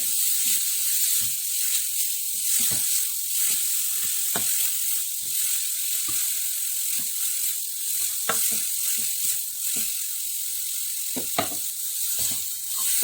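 Masala spice powders sizzle in oil in a pan for chickpea curry, a steady hissing fry with frequent short scraping ticks as they are stirred, close and continuous with no talking.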